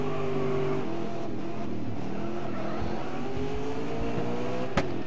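Touring race cars lap Istanbul Park in a racing video game, with several engines droning and shifting pitch together in a loud, continuous roar and a brief sharp burst near the end, and no voices.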